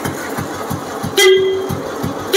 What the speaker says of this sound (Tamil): ஹாரன் ரெண்டு பெரிய ஹாரன் போட்டிருக்கு.